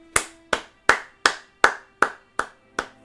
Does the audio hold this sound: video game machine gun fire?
no